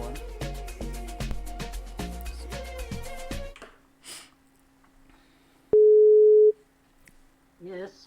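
A telephone call tone while dialing, a single loud steady beep lasting under a second after a short quiet gap, preceded by background music and a person speaking.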